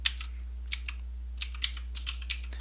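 Short run of keystrokes on a computer keyboard while entering a name in an Excel spreadsheet, light quick clicks heard close and clear against a low steady hum.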